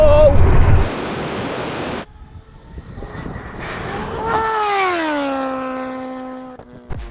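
Drag race between a Rimac Nevera electric hypercar, a KTM MotoGP bike and a supercharged Suzuki Hayabusa, with a loud roar at launch, then a high rising engine whine that sweeps and fades as the vehicles pull away, with a voice heard briefly.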